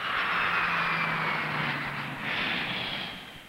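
A fixed-wing aircraft on approach to landing roars steadily overhead, a loud broad engine rush with a faint whine that swells, dips briefly and swells again before easing off.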